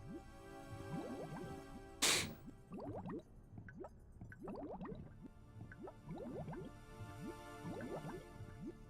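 Water drips and sloshes in a flooded palace area of the Nintendo 64 game Jet Force Gemini, a steady patter of small plinking drops with soft squishy splashes and one sharp louder burst, continuous and fairly close.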